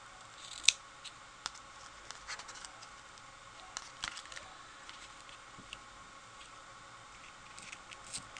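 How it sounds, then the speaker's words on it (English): Sharp scissors trim paper flower stem ends at an angle for a handmade birthday card, giving a few soft, sparse snips and light ticks up close over a quiet background. "Let me get my nice sharp scissors here"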